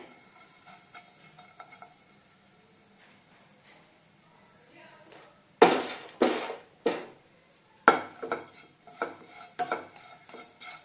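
Dry-roasting puliyogare spice ingredients in a pan over a medium flame: a quiet stretch, then sharp scraping and clattering stirring strokes in irregular bursts, close and fairly loud, with a faint hiss beneath.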